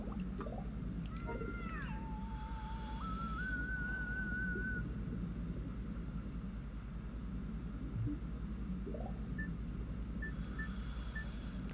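A melodic whistle from the Endless Ocean video game plays a short wavering tune over a steady underwater-like hiss, followed later by a few faint, evenly spaced whistle blips.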